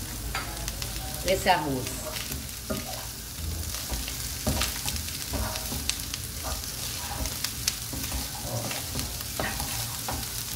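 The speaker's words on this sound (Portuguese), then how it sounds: "Vou deixar a carne seca incorporar um pouquinho aqui também no tempero." Dried beef stirred and frying in seasoning in a single pot, steady sizzle with repeated scraping strokes of a spoon, close by, with a brief spoken remark over it.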